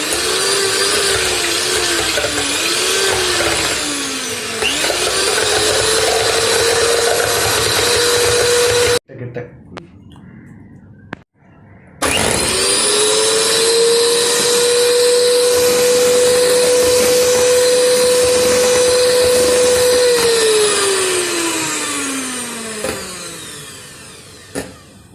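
Electric hand mixer whirring steadily while beating eggs for a vanilla sponge cake, loud and close, with its pitch shifting as the speed changes, a brief pause midway, then winding down at the end; a voice talks at times.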